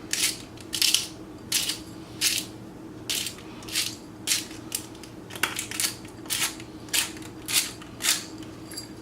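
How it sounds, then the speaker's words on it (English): Fresh pepper ground in a pepper mill while preparing beef bourguignon, heard as a steady series of crisp, crunchy grinding bursts about every second, close and moderately loud over a low background hum, with no talking. "Then we're gonna grind some fresh pepper."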